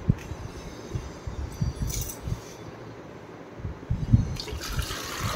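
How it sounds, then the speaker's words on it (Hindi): A glass of water is poured into a cooking pot of raw plantains and potatoes, with splashing and liquid trickling, light clinks, and a brief fuller burst of pouring near the end. "एबे देदेले गोटे ग्लास पानी"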